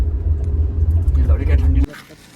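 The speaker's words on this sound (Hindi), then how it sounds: "दनादन दनादन दनादन मारा रिवर्स का गियर, एक्सीलेटर दबा के फुल टाइट में" A car reversing with the accelerator pressed hard, its engine a loud, deep, steady rumble with voices over it, cutting off suddenly with a click.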